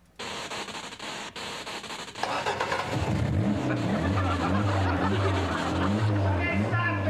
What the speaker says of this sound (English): She's gonna jumpstart Dad's car.